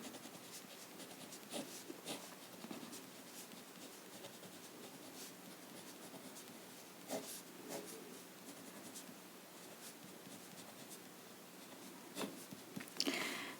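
Pen or marker writing out a math formula on a surface, with soft scratchy strokes and brief taps in an irregular rhythm, close but faint and with no talking.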